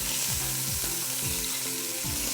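Short ribs browning in a hot pan for a braised short rib and polenta lasagne, giving a steady, loud, close sizzle that crackles without pause under a faint tonal hum.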